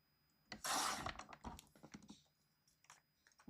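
Paper sheets for printable planner inserts being cut close up, a brief sweeping slice followed by quieter scattered taps and scrapes of handling.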